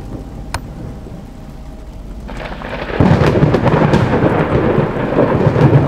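Thunderstorm in a video game: a low rumble builds, then a loud lightning-strike crack hits and leaves a sustained roar of rain and thunder, close and heavy, with no voices.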